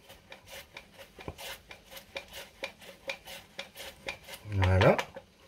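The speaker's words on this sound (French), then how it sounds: "on va venir faire des copeaux d'artichaut cru, le plus fin possible" Thin shavings of raw artichoke are cut with a fine kitchen knife: a close, steady run of short scraping strokes at an even rhythm, ending in a louder, heavier knock against the board.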